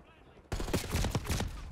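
Rapid gunfire in the video game Black Ops 6 on the Gala map bursts in suddenly after a quiet moment, a dense, close volley of shots with staccato pulses continuing to the end.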